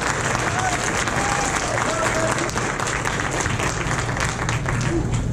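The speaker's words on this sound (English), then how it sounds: "Let's give him another round of applause." Audience applause at a school Christmas program, a sustained wash of clapping from a crowd in a hall, steady and fairly loud with faint voices mixed in.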